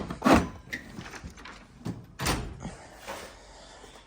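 Drawers of a 72-inch US General tool box slide and bang shut, giving a sharp metallic clunk at the start and another mid-way, with softer rattles and rolling scrapes between them, close and unaccompanied by speech.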